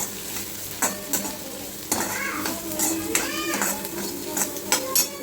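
Onion sizzles in hot oil in a kadai while a spoon scrapes and clinks against the metal, with stirring strokes and faint background voices.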